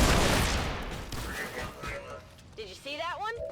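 A pistol shot cracks loudly at the start in XCOM 2. Its noisy blast trails off into quieter game sounds and a few rising and falling electronic tones.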